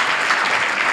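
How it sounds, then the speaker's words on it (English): A church congregation claps together in a loud, steady wash of many hands, continuous and close with no gaps, no talk over it. "Clap for Jesus, the deliverer."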